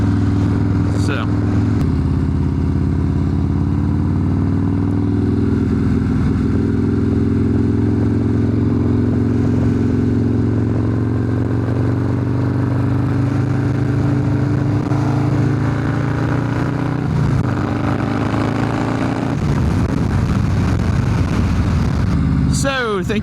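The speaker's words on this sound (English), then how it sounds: "thank you guys for riding along today on your ride-in review of this 2022 Harley-Davidson Softail Slim" A 2022 Harley-Davidson Softail Slim, a Perewitz custom, rumbles steadily while being ridden, its low engine drone loud and continuous with shifts in pitch as it changes speed, and a few brief clatters near the end.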